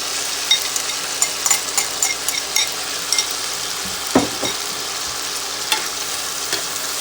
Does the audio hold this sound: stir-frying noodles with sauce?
yes